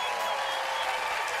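A large crowd applauds and cheers for David Ortiz at his Baseball Hall of Fame induction in Cooperstown, a brief, dense, steady roar of clapping heard from a distance.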